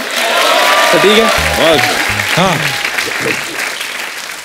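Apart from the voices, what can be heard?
audience applause and cheering for Salman and Katrina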